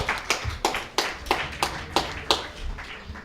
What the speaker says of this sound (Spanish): Este aplauso también para Sofía.